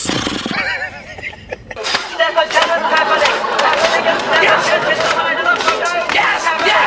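A voice imitates a horse whinny during a casual fast-food review, with a loud, wavering neigh-like call over lively chatter and laughter from several people nearby.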